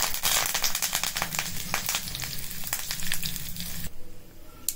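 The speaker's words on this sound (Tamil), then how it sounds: "இப்ப கருவேப்பிலை சேர்த்துருங்க." Mustard seeds and curry leaves crackle and spit in hot oil, with dense rapid popping up close that drops away abruptly near the end.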